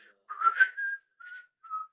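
Whistle blown on a parade float just before a song's beat drops, a series of short, close whistle tones rising and holding, then two briefer toots after pauses.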